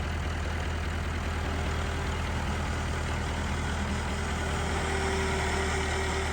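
A heavy diesel tractor engine runs steadily at low revs while moving a 4,000-pound shipping container, a constant rumbling drone with no talk over it.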